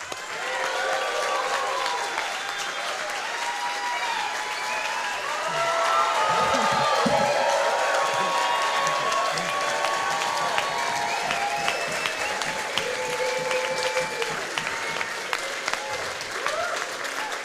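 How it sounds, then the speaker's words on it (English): Big crowd applause with cheering and whoops for tenants coming on stage at a city council campaign rally, steady and dense throughout and swelling midway, with voices mixed into the roar. "So let's give a big round of applause"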